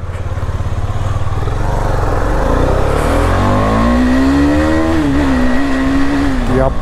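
A second-hand motorcycle at a used-bike showroom accelerates hard, its engine note climbing steadily in pitch as it pulls away, loud and close throughout.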